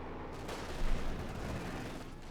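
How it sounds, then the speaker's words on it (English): A Company of Heroes 2 battle sends up dense artillery and machine-gun fire, a rolling, rumbling barrage with a heavier burst partway through. It stays fairly quiet and distant, with no talk. "taking the artillery barrage on the Pack again and the machine gun"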